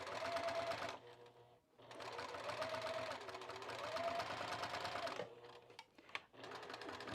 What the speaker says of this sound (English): I'm just gonna stitch along this